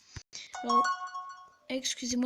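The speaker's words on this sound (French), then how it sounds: "c'est mon téléphone qui sonne" A mobile phone rings with a brief, steady electronic tone. It sits under and between a man's spoken French.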